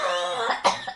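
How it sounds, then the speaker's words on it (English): A single short cough, close and fairly quiet, with a brief throaty burst at the end and no talking. "The ghost coughed."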